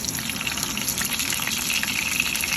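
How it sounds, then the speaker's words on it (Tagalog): Steady sizzling of eggplant frying in hot oil, a dense crackling hiss that continues evenly, close by, with no talking. "prito tayo ng talong guys."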